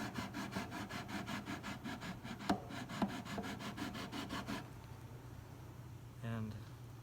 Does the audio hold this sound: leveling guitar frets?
yes